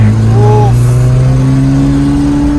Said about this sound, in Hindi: थार चला रहे हो एंड एग्जॉस्ट का फील भी है, ये बढ़िया चीज़ है।